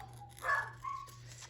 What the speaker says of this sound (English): One will bark and then it makes the other one howl.